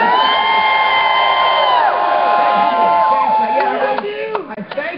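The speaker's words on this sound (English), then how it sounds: "I'm trying to get the crowd pumped up with great Chris Sooner!" Live audience at a podcast stage show cheering and whooping loudly, a dense sustained roar of voices that thins into scattered shouts and claps toward the end.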